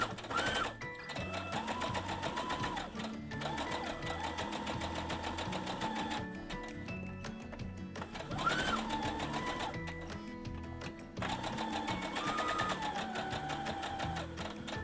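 A sewing machine stitches fleece fabric for a stuffed plush, running in steady mechanical bursts with brief pauses between them, close up and fairly quiet, with no talking over it.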